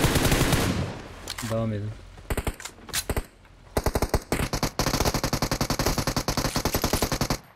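Automatic gunfire in the mobile battle royale game PUBG Mobile, with rapid bursts and a long sustained stream of shots that dominate the scene while a player's voice briefly cuts in over the shooting.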